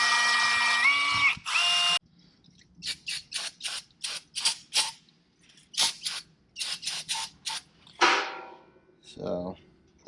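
A suction-cup valve lapping tool spins a valve against its seat in the cylinder head of a turbo LS engine for a 1979 Bronco, making close, gritty rasping strokes in a quick rhythmic series after an opening squeal.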